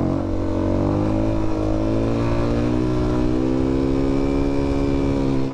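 A Suzuki DR-Z400S motorcycle accelerates hard in third gear during a wheelie, its single-cylinder engine a loud, close, steady rising drone throughout.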